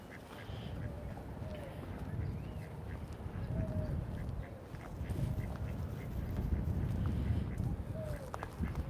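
Ducks quack repeatedly in a city park in New York, the calls moderately distant and scattered over steady outdoor background noise.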